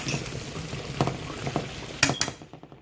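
A mushroom chop side dish simmers in a pan with a steady low sizzle and bubbling, with a few utensil clinks and stirring sounds punctuating it near the start and middle.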